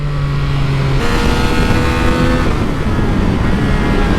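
A Triumph Speed Triple RX motorcycle roars loudly and steadily under the rider, the engine note holding with slight shifts in pitch and constant rushing wind.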